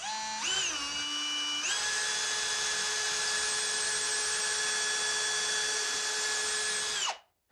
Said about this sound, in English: now that we have our 4 pilot holes drilled